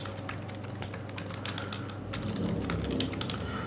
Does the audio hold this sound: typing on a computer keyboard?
yes